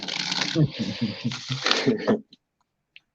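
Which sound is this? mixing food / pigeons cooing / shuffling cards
shuffling cards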